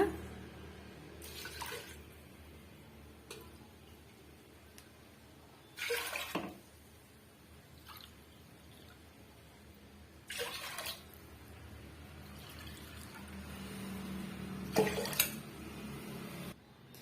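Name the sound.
water being poured into pot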